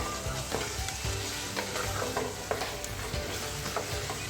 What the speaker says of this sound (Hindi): बस इसको मैं अच्छे से मिक्स करूँगी 2 मिनट के लिए। इसी के साथ दोबारा से फ्राई कर दूँगी।